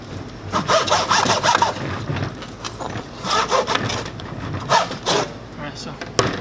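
A hand saw cuts back and forth through wood in a miter box, the rasping strokes coming in uneven bursts, loud and close, with some rubbing between strokes.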